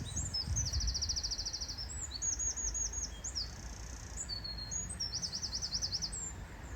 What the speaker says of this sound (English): Sat here listening to the wind blowing across the trees and the birds chirping.